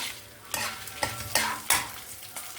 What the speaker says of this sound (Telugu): ఇప్పుడు ఎండుమిరపకాయలు వేస్తున్నామండి